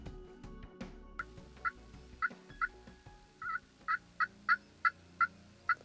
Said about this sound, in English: I hear a mature tom gobbling approximately 100 yards down the ridge to our right side.